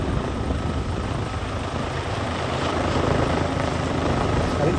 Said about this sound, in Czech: vrtulník je ve visu, teď fouká maximální výkon dolů